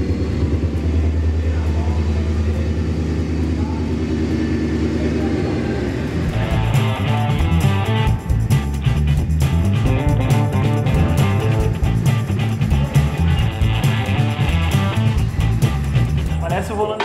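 Ford F100 pickup engine running close by, a low rough rumble that grows louder and busier partway through as it revs, with someone talking over it.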